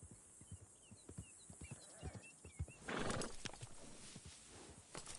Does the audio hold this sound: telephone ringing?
no